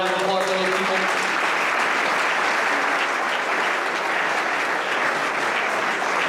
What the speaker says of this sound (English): Give a round of applause for those people.